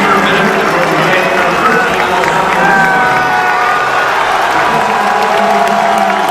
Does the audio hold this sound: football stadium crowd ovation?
yes